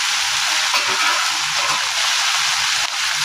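Tomatoes with rock salt sizzling in a hot pan, a steady, close, loud frying hiss with faint crackles running throughout and no voices.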